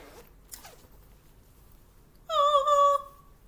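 A small zipper bag is zipped once in a single short, bright rasp, heard close and alone after a couple of faint handling clicks in a quiet room.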